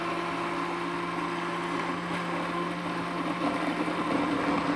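A kitchen blender whirs steadily as it mixes pumpkin pie filling for a healthy dessert, giving a constant motor hum with no talk.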